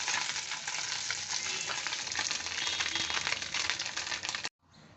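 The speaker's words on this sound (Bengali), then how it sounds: "আবার আরেকটাও এইভাবে ভেজে ফিরে আসছি।" Small kakchi fish fry in hot oil in a wok with a steady, dense sizzle and crackle, close and continuous, with light stirring clatter, before cutting off abruptly near the end.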